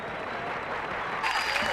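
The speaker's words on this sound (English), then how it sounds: "How about a nice round of applause for Mr." A comedy club audience bursts into applause for comedian Bill Hicks, clapping that rises and thickens toward the end, with a voice speaking over it.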